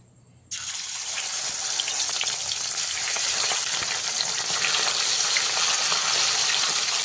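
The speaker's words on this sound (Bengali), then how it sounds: "এবারে একে একে মাছগুলো দিয়ে ভেজে নেব" Pieces of rui fish drop into hot mustard oil and burst into a loud, close, continuous frying sizzle that starts abruptly and holds steady.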